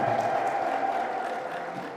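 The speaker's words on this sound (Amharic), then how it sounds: "ለራሳችሁ አጨብጭቡ" Audience applause at a religious media gathering: a brief burst of clapping from a crowd, moderately loud and fading toward the end, with no speech over it.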